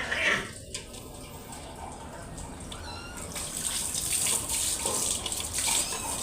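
Water runs steadily from a tap while a rescued cat is bathed, a continuous splashing wash that grows louder and brighter midway, with a person's voice faintly underneath.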